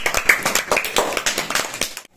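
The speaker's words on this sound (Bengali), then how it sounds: "হাততালি।" Hands clap briskly in a short burst, about a dozen quick, sharp claps in an even rhythm, close and loud, ending abruptly.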